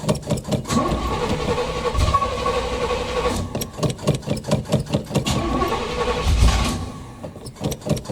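A 1981 Chevy Malibu Classic engine, running on old gas, cranks and catches on a cold start, then runs roughly with uneven revs and a brief surge near the end, loud and close with no talking.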